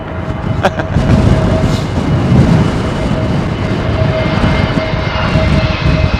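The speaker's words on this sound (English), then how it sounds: "this is Bluebird, I think, with British Airways 320 Neo" A British Airways Airbus A320neo lands on runway 27L at London Heathrow in a southwesterly crosswind, a loud sustained engine roar with heavy rumble, steady throughout with no talk over it.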